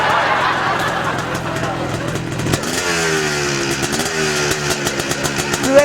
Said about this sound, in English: Just rev her up a bit.